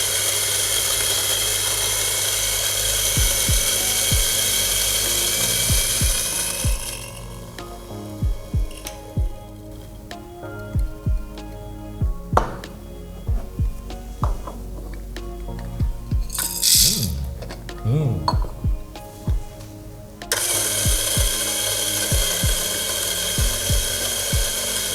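Coffee beans grind in a grinder with a steady, loud whirring that breaks off into a stretch of scattered rattles and clicks, then resumes as a continuous grinding drone at the end.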